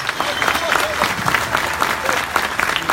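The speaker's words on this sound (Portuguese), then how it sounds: "Palmas turbinadas para Ciro Gomes." A crowd at a political dinner in Fortaleza applauds Ciro Gomes, dense rapid clapping close and loud, sustained throughout with a few voices mixed in.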